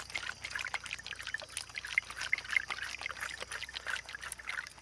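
Water trickles and drips faintly underground near trees of the Brahmajamudu family, a soft continuous patter of small irregular splashes with no voices and a low steady background hum.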